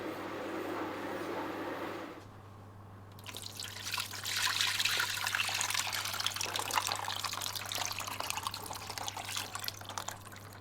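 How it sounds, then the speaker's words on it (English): Thick tomato sauce poured over meatballs in a baking dish, a steady wet trickling and glugging pour after a brief pause, close and continuous with faint dripping, no talking. "So I've poured my sauce on top of the meatballs"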